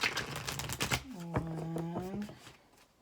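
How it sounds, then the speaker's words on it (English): Tarot cards riffle and shuffle in quick close bursts for a Sagittarius weekly reading, crisp papery flutters with a brief hum-like voice sound partway through. "Let's go a couple more shuffles here."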